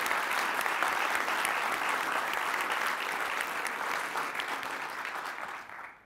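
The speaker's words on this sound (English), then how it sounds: "Let's please give everybody who supported us a round of applause" An audience at a startup demo day event claps steadily in a long, even round of applause, fairly distant and soft, tapering off at the very end.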